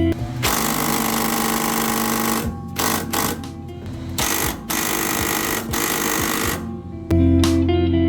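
An impact wrench loosens bolts on the control arm of a BMW F10 535i, giving loud, sustained buzzing rattles in several long bursts separated by short pauses, with a final deeper burst at the end.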